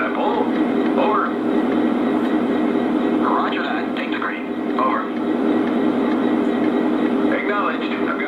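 An O gauge model train starts pulling out on a layout, a steady low rumble and hum of running gear continuing throughout, with radio-style voices speaking over it.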